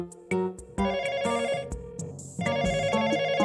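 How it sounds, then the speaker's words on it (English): A cartoon telephone rings on and on without being answered, a bright electronic ringtone in repeated bursts with short gaps between them, loud and close. "No one is answering the phone."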